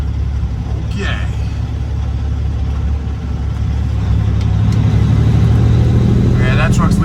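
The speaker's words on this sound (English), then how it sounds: "Yeah, that truck's leaving that way" A truck engine rumbles steadily in the background near a truck parking area, its low drone building louder toward the end as the vehicle pulls away, with brief brighter noises over the hum and a person talking intermittently.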